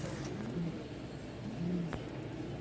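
White pigeons in pairs offered for sale, giving soft low coos in two short phrases over a faint background hum, with a sharp brief tap partway through.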